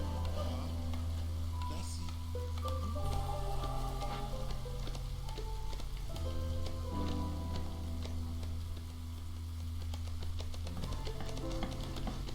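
Steady rain patters in the video game Against the Storm, a continuous soft hiss of drops layered under sustained low game music and scattered tones, with no speech.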